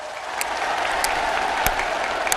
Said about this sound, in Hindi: जोरों से ताली बजाइए साथियों